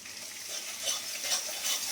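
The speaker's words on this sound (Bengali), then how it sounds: "একটুখানি ভেজে নিই মশলাটা" Masala spice paste sizzles steadily as it is fried and stirred in a pan for a Bengali katla fish curry, a close, even frying hiss with soft scraping strokes and no talking.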